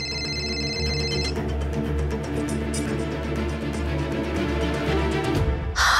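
A telephone rings steadily with an incoming call, a repeating electronic ringtone heard close and loud over a bed of background music, cutting off abruptly near the end.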